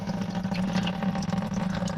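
Water drains steadily from the fuel tank of a John Deere 7520 tractor, a continuous close-up gushing flow over a low, even hum.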